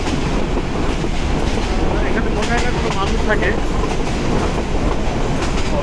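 The Balaka commuter train rumbles steadily along the rails from inside a carriage, with wind and a constant roar and faint clacking throughout while someone speaks over it.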